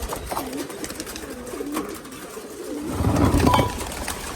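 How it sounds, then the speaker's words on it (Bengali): Pigeons on a pigeon farm coo at feeding time, a steady series of soft, rolling coos close by over a constant background hum, with a busier, fuller burst of activity near the end. "এখন কবুতরকে খাবার দেবো"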